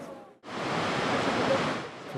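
Geyser at Geysir, Iceland, erupting in a double spout: after a brief quiet moment a loud, steady roaring rush of water and steam fills the air outdoors.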